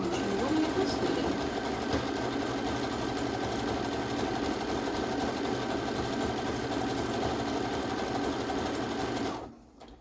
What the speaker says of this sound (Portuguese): Continuo minha costura.